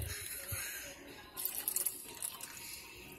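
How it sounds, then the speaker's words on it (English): Water poured into a drink mixture for a gross-drink challenge, a soft running splash that swells midway and continues steadily, fairly faint with room noise behind it. "Let's add that water."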